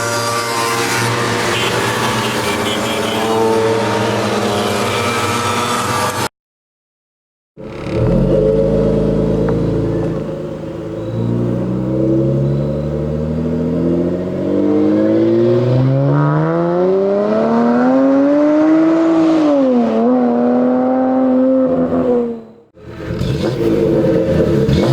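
A Dodge Challenger SXT with a Flowmaster American Thunder catback exhaust revs loud and close, with a deep rumble, a brief cutout, then a long rising rev that peaks and drops off before another burst.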